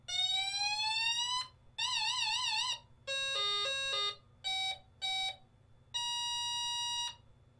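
A Signaworks Ethernet LED andon tower light cycles through several electronic alarm tones: sweeping, warbling and stepped beeps, then a steady tone, each burst loud and separated by short gaps, with no voices.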